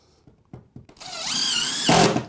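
A power drill drives a laminating screw into a plywood subfloor during floor water damage repair. A few light taps come first, then one loud whirring run that rises in pitch and bogs down sharply as the screw seats, close by.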